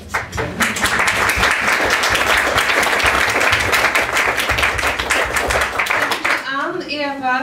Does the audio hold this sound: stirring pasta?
no